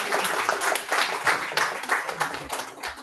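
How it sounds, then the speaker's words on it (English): A room of people applauding neighbourhood councillors at a community meeting, dense close clapping sustained for a few seconds. "So can we give them another round of applause?"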